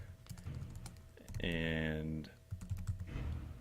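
Someone types on a computer keyboard in quick, light clicks. Someone talks over the tapping throughout.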